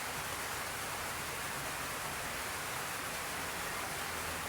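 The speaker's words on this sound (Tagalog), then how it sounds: "Hanggang ngayon, umuulan." Rain falls steadily, a soft, even hiss of drops with no other sound standing out.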